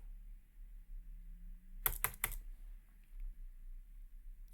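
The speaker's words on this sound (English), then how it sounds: "let's type it" Typing on a computer keyboard at a Linux terminal, a quick burst of three sharp key clicks in the middle of an otherwise quiet stretch with a low steady hum.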